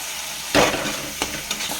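A ladle stirs fried spice paste for Bengali katla fish kalia in a pan, with a scraping stir burst, sizzling frying underneath and a couple of quieter scrapes after.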